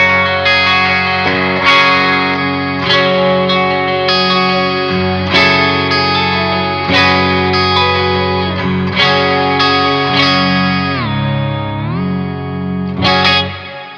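Electric guitar through a Boss XS-100 pitch-shift pedal, played continuously with a shifted, chorused and slightly distorted tone, sustained chords and a pitch dip near the end, loud and alone.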